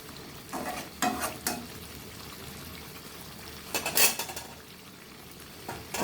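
Local magur catfish curry being stir-fried in a pan, a soft steady sizzle broken by bursts of scraping and clattering as a spoon stirs against the pan.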